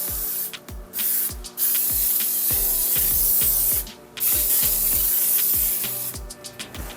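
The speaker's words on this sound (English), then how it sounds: "I'm gonna spray the can with some baking spray" Baking spray hisses from an aerosol can onto a cake tin in several bursts of varying length, loud and close, with short pauses and small clicks and taps between the sprays.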